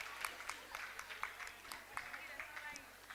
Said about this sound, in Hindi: एक बार जोरदार तालियां हो जाए उपासना के लिए।